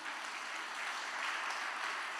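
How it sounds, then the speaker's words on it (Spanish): A church congregation applauds during a sermon, a steady dense wash of many hands clapping, heard at a distance and fairly soft with no break. "Dale un fuerte aplauso al Señor."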